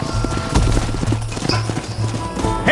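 Horses trot in the Western video game Red Dead Redemption, with steady rhythmic clip-clop hoofbeats on dirt alongside a low droning engine-like hum, a faint snort and ambient game noise.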